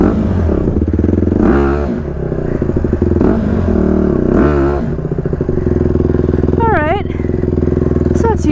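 A motorcycle engine drones loud and steady on a mountainside as the rider attempts a wheelie turn, with revving surges and scraping clatter mixed in and close voices shouting over it.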